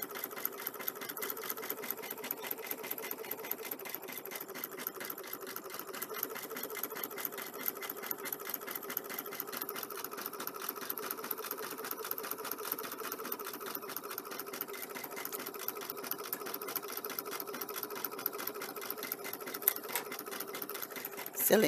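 A sewing machine runs steadily while stitching thread for a bookmark craft project, a continuous fast mechanical whir and rapid needle clatter that stays even and close throughout, with no speech over it.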